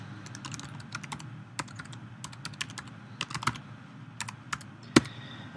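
Close, quiet clatter of keys on a computer keyboard as a password is entered, an irregular run of light clicks with one sharper keystroke near the end and no talking.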